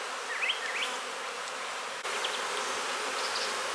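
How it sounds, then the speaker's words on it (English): Young nurse honey bees walk into a new colony, giving a steady, close, continuous buzz with small swells in the hum. "That's a little better shot of our young nurse bees walking in."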